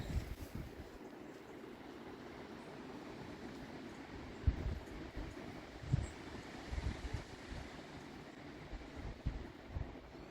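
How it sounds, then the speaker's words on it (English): Low, rumbling wind buffets the microphone, with gusty thumps rising and falling over a steady outdoor wash. "It wasn't supposed to be windy today."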